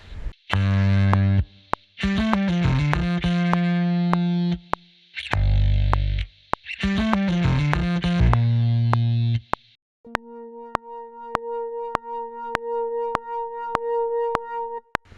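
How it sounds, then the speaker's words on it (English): A crunchy, distorted bass layered with guitar plays sustained notes in a song cover, loud bursts separated by short gaps, then gives way to quieter, pulsing tones. "So I layered a crunchy bass with the same notes and thought it sounded much better."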